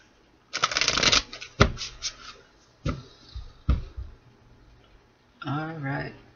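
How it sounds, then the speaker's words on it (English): An oracle card deck is shuffled in several brisk riffling bursts with sharp card snaps in between, close and clear, and a brief voice is heard at the end. "One more shuffle for Cancer,"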